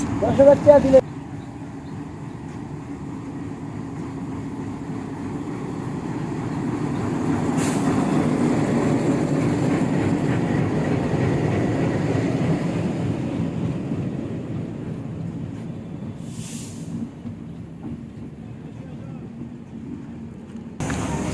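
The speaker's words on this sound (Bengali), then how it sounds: "এই মুহূর্তে কিন্তু স্টেশনের মধ্যে ট্রেন চলে আসছে" The Kapotaksha Express pulls into Mirpur railway station, an old British-era stop in Kushtia. A deep rumble swells through the middle and slowly fades, broken by two brief hissing bursts, with faint voices in the background.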